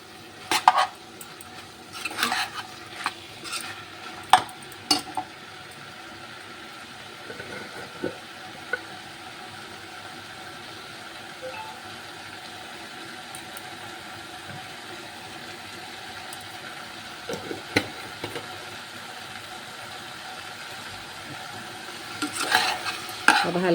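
Bottle gourd curry with cumin powder fries in a pan over a gas flame, a steady low sizzle broken by scattered scraping clinks as a spoon stirs it.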